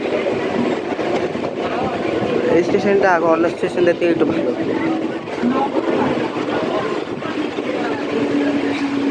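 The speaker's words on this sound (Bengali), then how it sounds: "আমাদের ট্রেন বনগা থেকে চলে নববারায়ণগড়ে ঢুকছে" A non-AC local train from Bangaon rolls into Nabagarayangarh station on the Ranaghat line, a steady close rumble and clatter of wheels under continuous talking.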